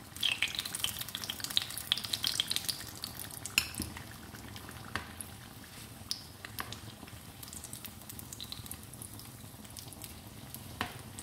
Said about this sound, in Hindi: और बाकी के रोल फ्राई करते हैं।